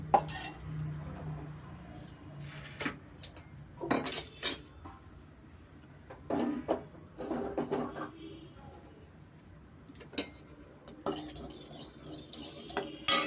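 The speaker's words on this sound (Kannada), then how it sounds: "ದ್ರಾಕ್ಷಿ ಗೋಡಂಬಿನ ನಾನು ಸ್ವಲ್ಪ ಈಗ ಈ ತುಪ್ಪದಲ್ಲೇ ಫ್ರೈ ಮಾಡ್ಕೊತೀನಿ ನಾನು" Raisins and cashews fry in ghee in a pan, with a spoon clinking and scraping against the metal in scattered bursts over a soft, steady sizzle.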